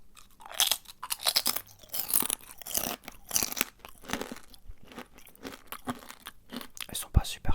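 Close, crisp crunching of very dry snacks being chewed at a food tasting, with repeated bites and crackles in an irregular rhythm, while a person talks between mouthfuls.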